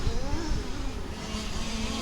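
Dirt track STC race cars start the B Main at Warm Springs Raceway. Their engines make a dense, loud, continuous roar that stays steady throughout.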